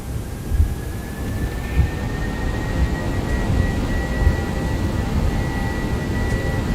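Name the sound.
Airbus A321 engines at takeoff power in X-Plane 11 video game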